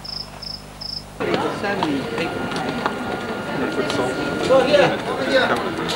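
A pet cricket gives three quick, evenly spaced chirps, close and clear, before a busy, noisy scene with people talking takes over.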